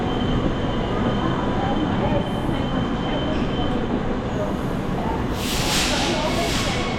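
A train rolls along the rails between Perth and Subiaco stations with a steady loud rumble and hiss, wheels clacking underneath, and a brief high squeal near the end.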